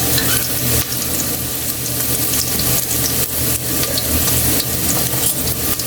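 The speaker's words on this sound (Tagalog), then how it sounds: "Lagay mo natin Kaili yung luya." Ginger frying and sizzling in hot cooking oil as it is stirred in a pan, a steady loud crackle throughout with no voices.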